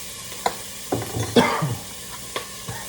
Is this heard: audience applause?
no